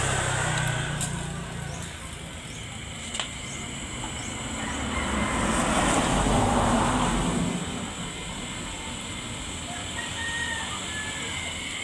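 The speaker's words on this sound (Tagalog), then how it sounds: "umandar na yun yung compressor" A Carrier window-type air conditioner compressor starts and runs, giving a steady low hum and rumble that swells for a few seconds in the middle before settling into an even drone, with a faint click near the start.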